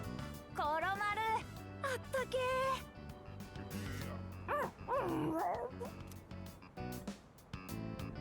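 Dog in Persona 3 Reload, the companion Koromaru, letting out short yips, barks and whimpers in brief bursts, mixed with game music and sound effects.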